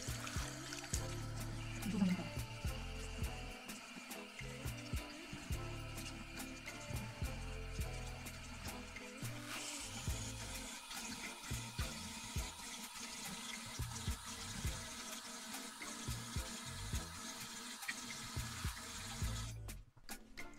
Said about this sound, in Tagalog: pagkatapos kong binalawan ng malamig na tubig